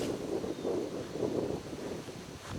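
Steady wind buffeting the microphone on a golf course at a par 3 hole, a continuous low rumbling roar with gentle swells in strength, close and fairly loud, with no talking.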